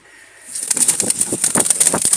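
Several wild Jalali pigeons stir close by with soft rustling and flapping, faint cooing underneath, and a high steady tone running throughout.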